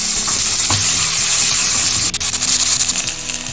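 Hot oil frying onion, garlic, chilli, tomato, capsicum, ginger, bay leaf and whole spices. A loud, dense, close sizzle with scattered pops and a few scraping stirs runs steadily throughout, and no one speaks.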